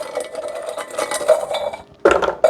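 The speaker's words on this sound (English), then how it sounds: "put them all into the blender or Vitamix or food processor, whatever you're using, or even in your bag. Drop those all in there." Oreo cookies clatter into a blender jar in a quick run of light clinks and taps, followed by a louder burst of rattling as more drop in, with no talking.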